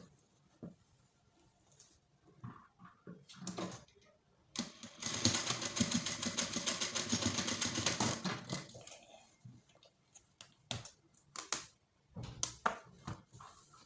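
A sewing machine stitches down a corset busk in a steady, rapid mechanical patter for about three seconds, with quieter handling clicks before and after.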